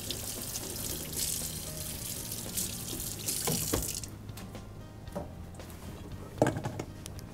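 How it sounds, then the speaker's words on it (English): A kitchen tap runs in a steady hiss as a knife is rinsed of blue cheese beneath it, then the flow stops, leaving faint clinks and handling noises nearby. "Let me rinse the blue cheese off this knife"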